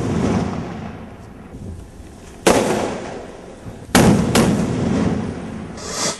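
Firecrackers set off as offerings at a village temple festival give two or three sharp, loud cracks against quiet outdoor background, the pops spaced irregularly over a few seconds.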